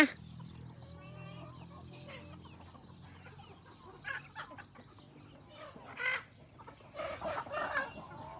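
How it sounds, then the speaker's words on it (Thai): Bantam chickens cluck and call in short, scattered bursts around a garden home, fairly faint against a low steady background hum, growing busier toward the end. "บรรยากาศบ้านสวนนี่ลุยนะคะไก่แจกับมี่ฮานกับมี่นะคะ"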